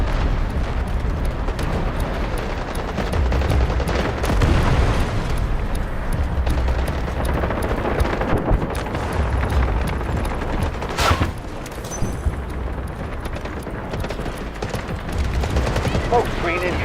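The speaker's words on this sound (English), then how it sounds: "Artillery barrage ready." Artillery barrage in a video game: a dense, continuous roll of overlapping explosions and rumbling blasts, loud and sustained throughout with no pauses.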